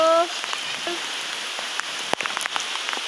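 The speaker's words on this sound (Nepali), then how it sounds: "पानी परो पानी परो।" Rain falls outdoors on a grassy hillside after grass cutting, a dense, steady patter on surfaces with scattered nearer drops and a brief voice at the start.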